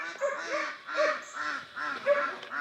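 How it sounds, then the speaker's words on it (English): A lineup of ducks on a homestead waddles across the yard toward the morning feeding spot, quacking in repeated overlapping bursts, close and fairly loud. "We've got the lineup of ducks."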